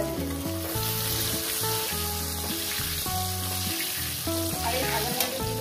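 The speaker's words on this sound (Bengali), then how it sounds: "আলুগুলো দিয়ে সুন্দর করে লাল লাল করে ভেজে নেব।" Potatoes fry in a pan with a continuous close sizzle and crackle, steady throughout, while faint background music plays underneath.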